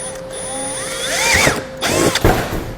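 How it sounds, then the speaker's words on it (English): A power drill whines up and down in short bursts, close by, drilling out corners while installing a base plate on a 2020 Jeep Wrangler, with a few clunks and handling noises between the runs. "we're going to drill out the corners"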